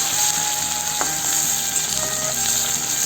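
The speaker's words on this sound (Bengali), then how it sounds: "এই পেস্টটা ভালো করে লাল লাল করে ভাজে নেবো" Spice paste fries in hot oil for a jackfruit curry, making a loud, continuous close sizzle broken by a sharp tap of a spoon and light stirring.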